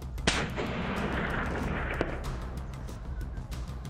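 A single sharp hunting rifle shot at a wild boar cracks early during a Spanish montería, followed by a rolling echo and outdoor rumble, with a fainter second report about two seconds later.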